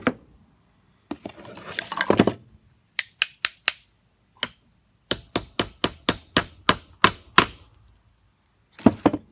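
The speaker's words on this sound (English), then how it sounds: "Piston did move down a little when I tapped it with a hammer." Hammer taps on the piston of an MGC wheel cylinder, a string of sharp metallic knocks in irregular bursts with short pauses, close and fairly quiet.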